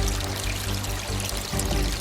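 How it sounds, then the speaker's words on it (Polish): The Szeszupa river rushing over boulders and stones like a mountain stream, a dense, continuous close-up wash of pouring, splashing water with steady loudness and no voices. "Niczym górski strumień, obmywając głazy i kamienie, opuszcza nowy odcinek doliny."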